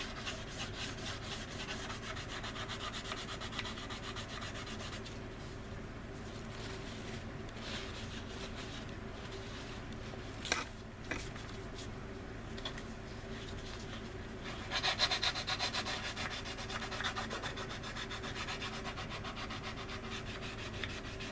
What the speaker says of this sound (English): when you're using your sanding board to sand down the leading edges of these wings